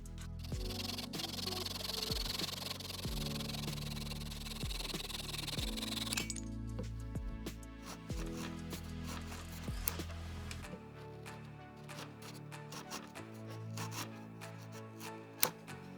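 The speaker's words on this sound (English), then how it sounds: "Now that I've sanded this transition with 400 grit sandpaper, it's ready for finish." A repaired guitar headstock is worked over with 400 grit sandpaper, a faint, close rasping rub in repeated strokes over a background hum, with small scrapes and a sharp knock near the end.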